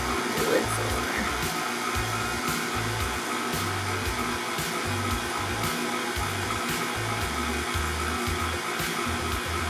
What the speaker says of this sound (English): You want to turn your mixer down when you do that so that you don't make a mess.